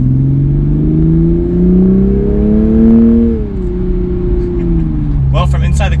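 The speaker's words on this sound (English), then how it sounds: "Now we'll do a quick acceleration in normal automatic mode." A Toyota Supra A90 accelerating in normal automatic mode, its engine drone heard from inside the car, climbing steadily in pitch, dipping at a shift, then continuing loud and close.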